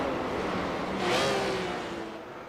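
Race cars in a sim racing video game at the 2023 Sports Sedan eSeries on Bathurst's Mount Panorama, a BMW, an Aston Martin and a Corvette battling closely, give a steady engine drone that swells as one passes near, then fades.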